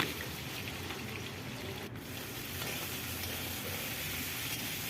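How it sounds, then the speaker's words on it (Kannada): Brinjal fries in oil with cumin, sesame and onion, giving a continuous, close sizzle with a steady crackling hiss that grows slightly louder partway through. "ಇಲ್ಲಿ ಎಣ್ಣೆಯಾಗ ಬದ್ನಿಕಾಯಿ ಎಷ್ಟು ಫ್ರೈ ಆಕೈತೆ ನೋಡಿರಿ"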